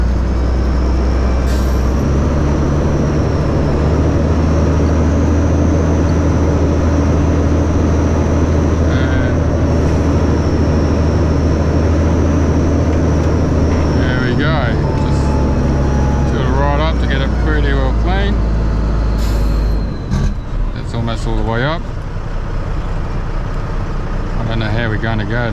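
The hydraulic pump on a side tipper trailer runs with a loud, steady low mechanical drone under the truck's engine, with a faint whine and clunks and shifting noises near the end, while someone talks.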